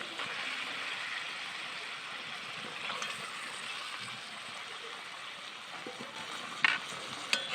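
Cleaned chicken pieces go into spice masala frying in oil, giving a steady, hissing sizzle that stays fairly even, with a few stirring clinks near the end.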